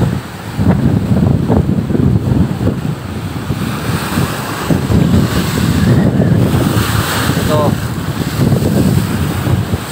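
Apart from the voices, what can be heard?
roaring wind and high ocean waves on the West Lampung coast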